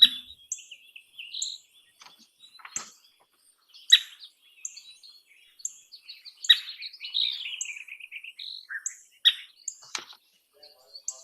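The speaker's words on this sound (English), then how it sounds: "It's just a little chirp thing." A recorded wild bird gives short, high chirps in scattered bursts, some quick and clipped, others slightly drawn out, with quiet gaps between them and no other sound around.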